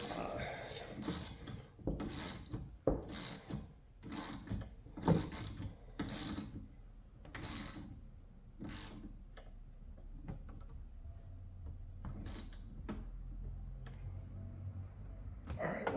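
A hand ratchet snugs down the windshield wiper nuts on a Jeep JL cowl. It makes bursts of close, sharp clicking with pauses between them, then a quieter stretch of softer handling noise.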